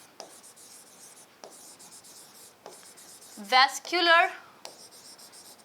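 Pen strokes writing notes by hand, a series of scratchy strokes with brief pauses, sitting under a voice that speaks briefly partway through.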